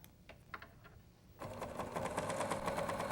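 A Viking Huskylock 1002LCD serger starts running a chain stitch after a quiet pause with a few faint clicks, then hums steadily and briskly, close and fairly loud, with no talking.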